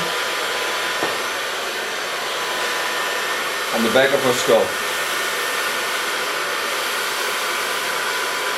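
A hair dryer blows with a constant, loud whooshing hum close by, while a voice speaks briefly partway through.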